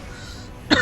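A single short cough, set off by inhaling a bit too much saliva, bursts out near and loud near the end after a stretch of quiet background.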